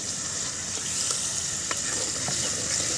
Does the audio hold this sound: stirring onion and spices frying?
yes